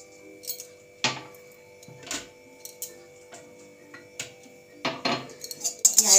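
Whole garam masala spices stirred in a pan for biryani masala, giving light metallic clinks and scrapes of a utensil against the pan in irregular bursts, close and moderately loud with no talking.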